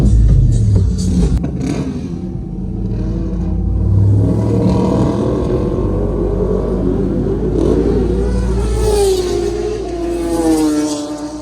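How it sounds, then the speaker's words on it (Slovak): Motorcycles sprinting at a Power Festival drag event, loud engine roar with rising revs and shifting pitch sweeps, continuous rumble building and falling over the whole stretch, close and powerful. "akurát šprintujú motorky"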